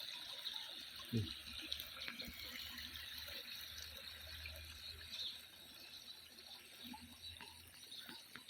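Water flowing steadily through a small drainage pipe on a farm road after rain, with a continuous faint rushing hiss and occasional light splashes, heard from close by.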